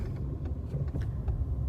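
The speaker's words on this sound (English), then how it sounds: "sorry, there's a car behind me." A car's steady low engine rumble and road noise from a vehicle driving close behind, continuous and fairly loud with no talking.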